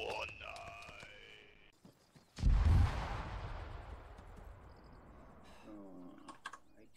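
A single heavy bomb blast in the military shooter game ARMA 3 erupts midway as one loud, deep boom that rumbles and fades over several seconds, after quieter electronic game tones and clicks.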